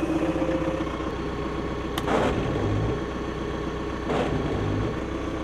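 A farm tractor idles steadily with a low, even engine rumble close by. Two brief bursts of louder noise break in partway through.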